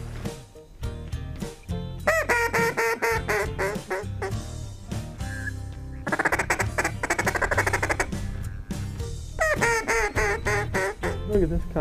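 Loud, repeated duck quacks come in dense bursts from several birds close by on a river bend, with brief pauses between flurries and faint voices underneath.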